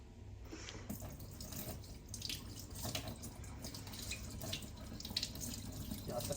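Tap water runs into a sink during washing, giving a steady, soft splashing flow throughout with faint background murmur.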